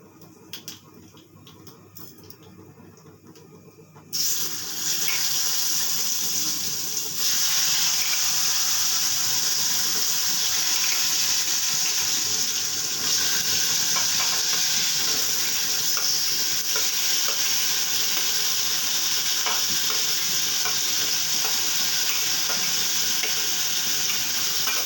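Squash pieces drop into hot mustard oil tempered with nigella seeds, and a loud, steady sizzle bursts out after a quieter start. It carries on close and unbroken with light stirring, with nobody speaking.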